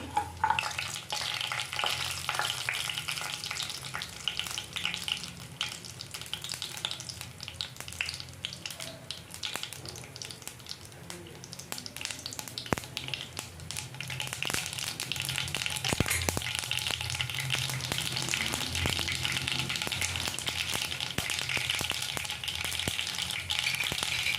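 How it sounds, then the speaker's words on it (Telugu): Mustard seeds and cumin frying in hot oil for an Andhra tomato pickle, a close, continuous crackling sizzle with sharp pops and spits throughout, rising slightly louder toward the end, with no voices. "ఇందులోకి మనము ఆవాలు, కొద్దిగా జీలకర్ర వేసుకొని కొంచెం ఫ్రై చేసుకుందాము"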